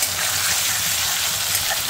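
Potatoes and onions fry in a pan while being stirred, giving a constant, moderately loud sizzle with faint scraping, and no one talking.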